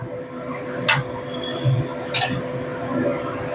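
Fish and potatoes stirred in an open pot on the stove, with two brief metallic clinks and scrapes of a utensil against the pot over a low, steady kitchen background.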